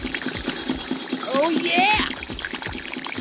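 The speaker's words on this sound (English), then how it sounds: "The piston is pushing the water up. Haha, water is being pumped up." A LEGO piston pump lifts water from a tank, giving a soft rhythmic trickle and splashing, with a voice exclaiming over it midway.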